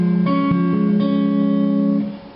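Sustained acoustic guitar chords plucked twice in succession, close and ringing, each strum sharp at onset and fading smoothly, with no voices.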